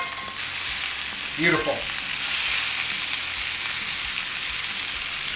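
Steaks searing in a hot pan, a loud continuous sizzle and crackle filling the clip close up, with one brief spoken word.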